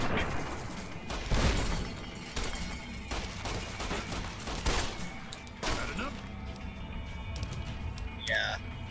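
Rapid bursts of gunfire in the video game Fallout: New Vegas crackle through a busy mix with scattered impacts and thuds, and a voice talks along underneath.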